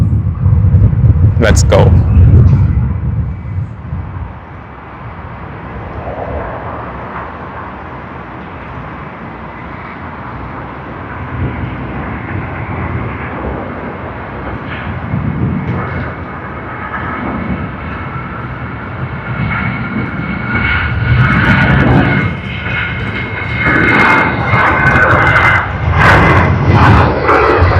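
A large passenger jet arriving on the runway at Sydney Airport, a broad engine rumble building and swelling toward the end, with people talking throughout.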